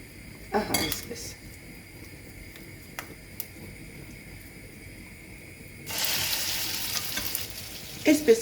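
Meat cutlets frying in a hot oiled pan, a steady soft sizzle with a few utensil clinks and scrapes early on, the frying growing louder and brighter toward the end, close by with no talk.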